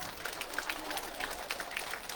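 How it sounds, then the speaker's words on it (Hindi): An audience at a women's seven-day advanced yoga training camp in Nepal claps together, a faint, dense and steady patter of many hands with no single claps standing out. "चलो ताली बजाओ अपने लिए"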